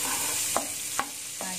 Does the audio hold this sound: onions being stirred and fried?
yes